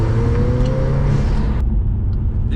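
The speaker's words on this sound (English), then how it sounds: "The noise now, team of the exhaust, is just loud." A loud, rumbling car exhaust roars steadily after a turbo pod air filter install, with a deep engine drone that drops slightly in tone partway through.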